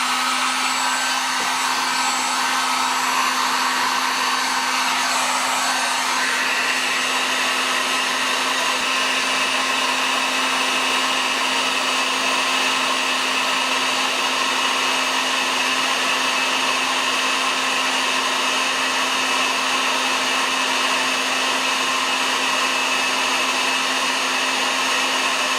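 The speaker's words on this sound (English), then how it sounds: "we're going to have to heat it up with the heat gun" A heat gun blows hot air onto a fishing rod tip with a loud, continuous whir and hiss that stays steady from start to finish, close by and with no voices.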